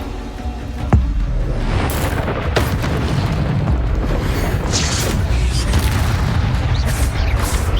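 A Bombarda explosion spell in Hogwarts Legacy goes off with a sharp loud boom near the start, then a dense rumbling roar of explosions and debris with further blasts, sustained and loud throughout.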